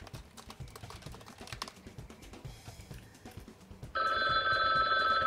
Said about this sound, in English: Well, I'm getting a phone call.